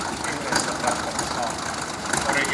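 A vintage tractor engine runs at a veteran machinery show in Oulainen, a steady, rough mid-pitched chugging drone heard close up with outdoor crowd noise around it.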